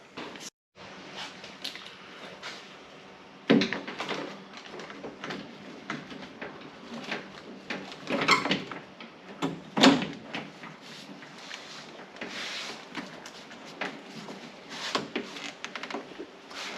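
Plastic clicks, rubs and knocks as a Toyota pickup's door panel is handled up close during a window regulator replacement, with scattered sharp snaps and rustling, no talk.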